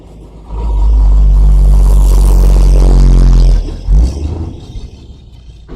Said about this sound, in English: Okay, that is a big truck.